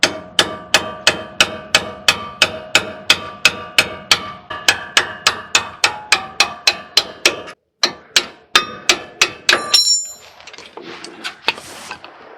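Steady, evenly spaced metal-on-metal hammer blows, around thirty sharp ringing strikes close by, driving a front hub piece out of a motorhome, slowing near the end before a short scraping clatter.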